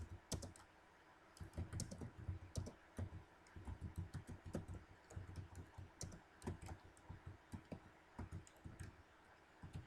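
Quick, uneven bursts of clicking keystrokes on a computer keyboard, close and crisp, with brief pauses between runs of typing and no talking.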